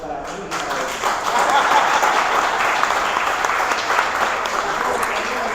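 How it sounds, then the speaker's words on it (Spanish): Sustained audience applause fills a university colloquium hall, a dense steady wash of clapping that swells after the first half second and holds at a strong level throughout, with voices faintly mixed in. "Un aplauso para mí y para ellos."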